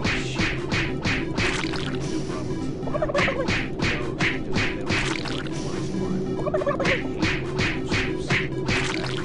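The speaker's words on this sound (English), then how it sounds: "I don't know why I'm punching chickens." A turkey gobbles from the Super Turbo Turkey Puncher arcade machine in Doom 3, with rapid bursts of loud, rattling gobbles repeating over a steady electronic hum.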